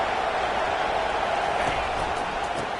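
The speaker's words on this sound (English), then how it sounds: "It is getting loud as this crowd tries to help its defense." Football stadium crowd roaring to support its defense at a USF game, a dense, steady wash of cheering and noise with no breaks, loud and far-spread.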